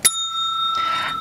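A bicycle bell rings once, sharp and close, its bright metallic tone hanging on and swelling slightly before the clip ends, with no talk over it.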